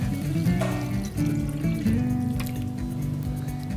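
Water is poured into a pan of ground beef cooking on a stove, a continuous splashing, trickling pour against a low sizzle, steady and close for several seconds.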